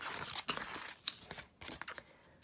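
Scissors cutting magazine paper for a junk journal, a few faint crisp snips and papery rustles, close and quiet.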